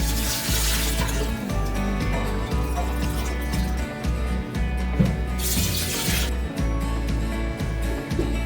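Continuous running water pours steadily into a cooking pot holding mutton for yakhni pulao, a broad rushing splash with brief surges, close by and fairly loud, with no talking.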